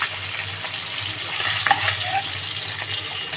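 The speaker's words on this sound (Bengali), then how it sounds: "একটু উল্টে এপিট ওপিট করে নামিয়ে নেব। বেশিক্ষণ ভাজবো না" Hilsa fish pieces fry in hot oil in a pan, a soft continuous sizzle with faint scraping as they are turned, close and steady without talking.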